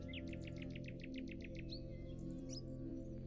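Birds chirp in the Nature Treks VR game, a repeated series of bright tweets early on followed by a few scattered calls, heard over a steady low hum of background ambience.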